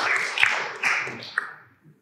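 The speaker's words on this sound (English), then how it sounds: "but a round of applause" Audience applause after a talk at an environmental technology event in Taranaki: a short burst of scattered hand claps that quickly fades to near silence.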